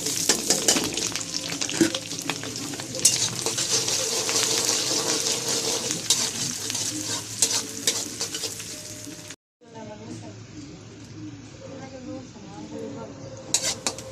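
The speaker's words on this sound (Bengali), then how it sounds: "ডিমটা ভাজা হয়ে গেছে, এখন পেঁয়াজ দিয়ে দেবো।" Onions fry in a pan after an egg has been cooked in it, a constant crackling sizzle broken by scraping stirs, close and fairly loud, with a brief drop to silence partway through before the frying resumes.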